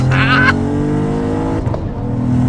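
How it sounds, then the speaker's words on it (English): A Cadillac CT4-V Blackwing sports sedan revs hard and accelerates on launch control with a loud, rumbling exhaust, the note rising then dipping as it shifts, close and continuous. "Listen to that exhaust too."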